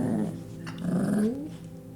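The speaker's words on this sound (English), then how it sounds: "while these dogs chase each other" Several dogs growl continuously while playing and chasing each other, a close, loud, rumbling growl with rising whiny edges that runs throughout without pause.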